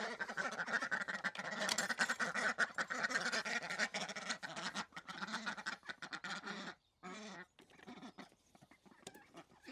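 A flock of ducks quacks continuously nearby on a farm in the morning, overlapping calls forming a busy chatter that thins out toward the end.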